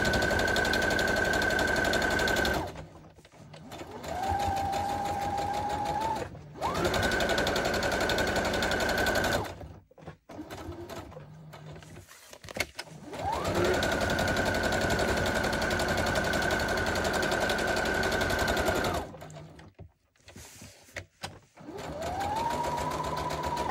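A sewing machine stitches a Halloween junk journal cover in long rapid whirring bursts, its motor pitch rising as each run starts, separated by short pauses.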